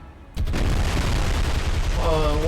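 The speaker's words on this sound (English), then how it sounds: "Generally when it's a big explosion like this, it's 2 hits in the back, which is not bad." Big shell-hit explosion on a ship in the naval video game War on the Sea, a sudden loud boom that starts sharply and then rolls on as a sustained rumbling roar.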